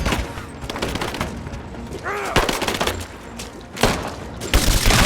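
Gunfire from the video game Rise of the Tomb Raider, with dense bursts of rapid shots and sharp loud cracks through a busy battle mix, some louder close blasts near the end.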